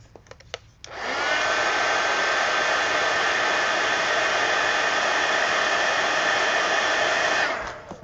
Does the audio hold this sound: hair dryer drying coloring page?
yes